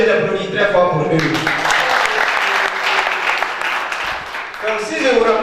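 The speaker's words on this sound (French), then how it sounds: "Je vais encore vous demander d'applaudir très fort pour eux." Loud audience applause at a large conference fills the hall, a sustained dense wash of clapping that swells after a second and carries on to the end, with a speaker's voice faintly audible at the start and close.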